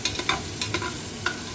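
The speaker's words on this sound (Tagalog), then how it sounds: "Magluto tayo ng baka." Beef cooking in a pan, with a soft background sizzle broken by several quick scraping stirs at an uneven pace, close and fairly quiet, with no voices.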